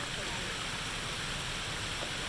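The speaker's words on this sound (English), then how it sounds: "But really enjoying this fountain." A large fountain in Bosque de Chapultepec park, Mexico City, pumping water through many jets, heard as a steady, even rush of falling water, moderately close and continuous with no break.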